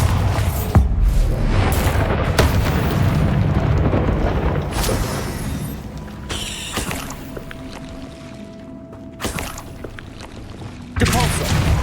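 Explosive blasts from the Bombarda spell in Hogwarts Legacy, cast during a rapid spell fight. A few heavy booms land amid continuous rumbling combat noise, with a voice calling out between them.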